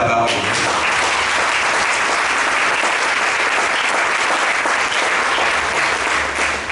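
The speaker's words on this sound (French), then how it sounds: "Est-ce qu'on peut acclamer la parole?" A church congregation breaks into loud, sustained applause during a Sunday service, a dense wash of clapping from many hands filling the room throughout.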